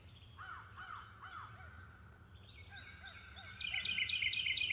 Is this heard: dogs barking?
no